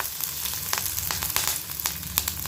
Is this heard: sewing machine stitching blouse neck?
no